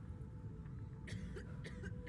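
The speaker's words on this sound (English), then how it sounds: "Come on, stop coughing." A character in the video game Morrowind coughs in a few short, harsh bursts over a steady low game ambience.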